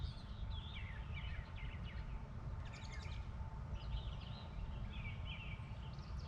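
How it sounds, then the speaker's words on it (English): Birds chirping and warbling in Spring Park in Tuscumbia, Alabama, on a May day, scattered short calls over a steady, loud outdoor rumble and hiss, with no talking. "Listen to the birds."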